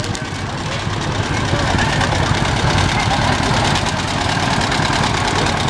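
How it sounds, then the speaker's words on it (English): A heavy John Deere tractor engine chugs steadily nearby while pulling a Christmas parade float, loud and continuous with a rhythmic knocking pulse. "a major float pulled by a John Deere tractor"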